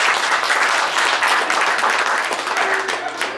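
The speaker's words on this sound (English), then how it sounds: "a big round of applause, everybody" Enthusiastic audience applause fills a saloon show at the Crystal Palace Saloon in Ogallala, Nebraska, a steady dense wash of many hands clapping close by, with a faint voice rising near the end.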